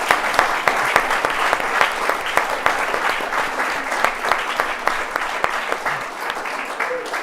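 A hall audience claps together for a group of students at the close of a talk at an Italian festival; individual sharp claps stand out in a brisk, steady roll that eases slightly near the end.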